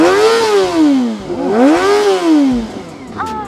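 A Kawasaki ZX-25R four-cylinder motorcycle engine revs loudly up close, rising to a high-pitched wail and falling back twice in quick blips before settling to a quieter idle.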